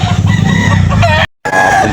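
A rooster crows loudly and close at a busy chicken market in Carbon, Cebu, the call breaking off with a brief silent gap before the sound resumes.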